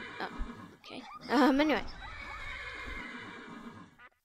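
A horse in a modded video game gives a loud, wavering whinny that rises and falls, with clip-clop hoofbeats around it and a brief spoken word just before.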